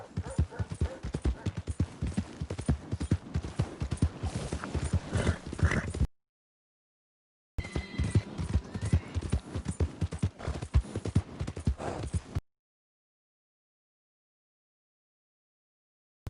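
Horse hooves clip-clopping in the video game Red Dead Redemption 2, a steady rhythmic run of close hoofbeats in two long stretches separated by a silent gap, with a voice briefly heard.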